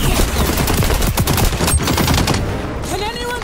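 Rapid bursts of automatic gunfire in the first-person shooter XDefiant, loud and dense across the whole stretch and thinning slightly near the end, with game effects mixed in.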